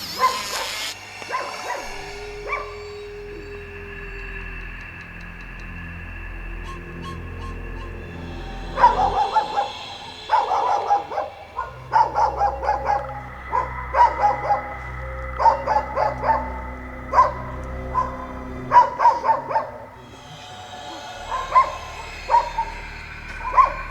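Dogs bark at an abandoned psychiatric hospital in a string of sharp, repeated barks and higher yips. Some whimpering comes between bursts at moderate distance.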